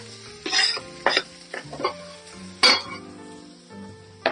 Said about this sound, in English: So I am now going to add the onions right into the pot.